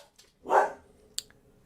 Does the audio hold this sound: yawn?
no